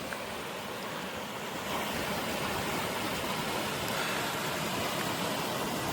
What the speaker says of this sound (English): And it's got this little waterfall, which is really nice.